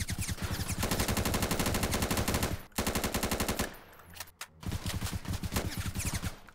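Rapid automatic gunfire from the War Tycoon video game, loud sustained bursts with a brief gap near the middle and a few scattered pops before firing resumes.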